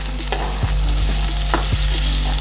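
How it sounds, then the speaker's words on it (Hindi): Diced potatoes and chopped onions fry and sizzle loudly in a pan for a Spanish omelette, with steady crackling and a few soft stirring scrapes, no voices. "हम आलू और प्याज को हम 3 से 4 मिनट अच्छे से पकाएंगे"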